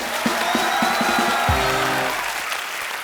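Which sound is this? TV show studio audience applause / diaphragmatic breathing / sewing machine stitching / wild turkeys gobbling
TV show studio audience applause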